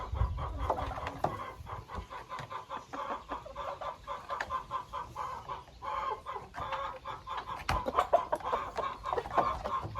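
White crested rooster with feathered feet, clucking steadily among other chickens in a yard, a continuous close chorus of fowl calls with no speech.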